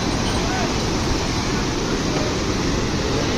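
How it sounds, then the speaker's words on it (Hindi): Mountain river water rushes steadily and loudly near a trail and iron bridge on the route between Badrinath and Kedarnath, a dense continuous roar with no breaks. "ये देखो पानी का फ्लो"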